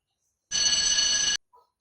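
A single short burst of an electronic telephone ring, bright and trilling, sounding for under a second in otherwise quiet surroundings.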